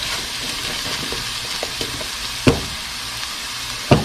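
Potatoes fry in a pan with a steady, broadband sizzle, broken by a couple of sharp knocks of a utensil against the pan near the middle and at the end.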